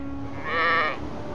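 A single short, wavering goat bleat rises clearly above a quiet background and fades within about half a second.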